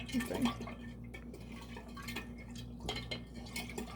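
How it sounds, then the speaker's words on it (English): A spoon stirs sugar into kombucha, giving soft, faint clinks and scrapes against the container, with a couple of sharper taps near the start and again near the end over a low steady hum. "I'm going to mix it until it's melted."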